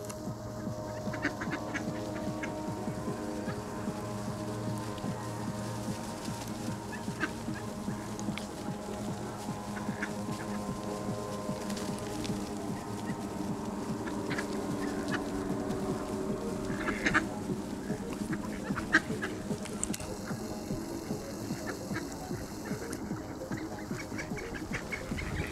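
A flock of ducks squabbles over food nearby, with a continuous overlapping chorus of quacks and honks, fairly soft and steady throughout, with no talking.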